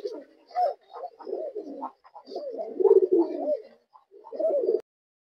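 A pair of large Gol Fotka pigeons, male and female, coo in a series of soft, throaty bursts that rise and fall at close range over several seconds, with brief pauses between phrases.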